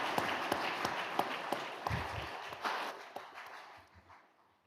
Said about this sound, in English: Another round of applause for all our awardees today.